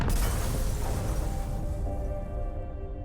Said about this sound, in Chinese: 能辨别出爆炸传来的方向吗？